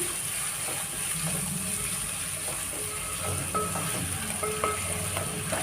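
Two dried red chillies fry in oil in a pan with a continuous moderate sizzle, while a spoon stirs and scrapes with soft clinks partway through.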